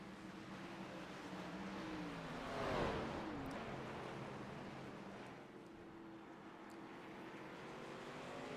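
Race car engines in iRacing's Shoney's 70, a steady droning roar with a rising whine as a car passes close around the third second, then fading back to a continuous engine drone.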